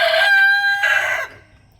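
An Easter egger rooster crows loudly and close, a drawn-out call in two strained bursts, then quiet.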